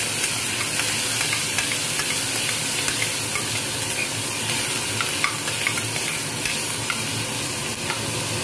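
Onion stirred and sautéed until soft in a pan for South Indian sambar, a loud continuous sizzle and hiss up close with occasional soft stirring scrapes.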